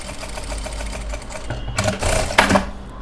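A sewing machine stitches resham embroidery in a circular stitch lesson, whirring in a fast, even rhythm close by, briefly broken by a couple of sharp clacks near the end.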